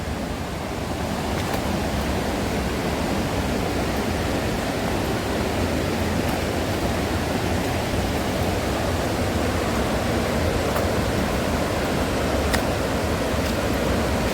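Makeli Ella waterfall near Kalutara, Sri Lanka, in heavy flow: a steady, dense roar of rushing water that fills the whole scene without a break, close and loud, with no voices.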